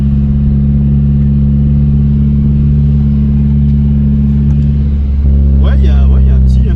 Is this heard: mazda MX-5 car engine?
yes